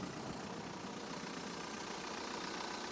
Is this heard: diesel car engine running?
yes